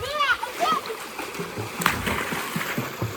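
A person dives into water during a breath-holding stone-collecting challenge, giving a short splash and splatter followed by sloshing and trickling, while a voice talks close by throughout.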